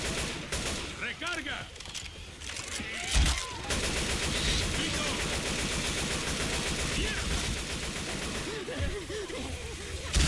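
Machine gun fire in the video game Left 4 Dead 2 rattles in dense, rapid bursts almost without pause, with faint voices in the mix.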